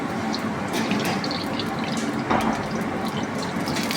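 Mustard oil is poured into a hot wok for cooking gugli, producing a steady, close, liquid hiss and sizzle that holds fairly even throughout with no talk.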